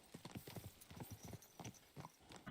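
Horse hooves clip-clopping at a steady walking rhythm in the Kingdom Come: Deliverance II video game, a close, even series of hollow thuds continuing for a couple of seconds.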